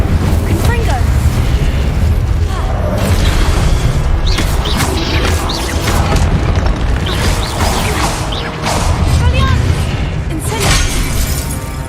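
Confringo and Incendio spell blasts in the Hogwarts Legacy video game come as loud, continuous roaring explosions with crackling bursts, layered densely with almost no gaps.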